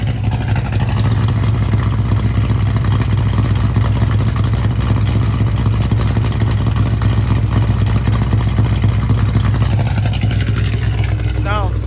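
A 1971 Chevrolet Chevelle V8 with a 3-inch exhaust and X pipe idles steadily and close by, a deep rumble with a loud, even low-end throb that holds unchanged throughout, and a few words of speech now and then.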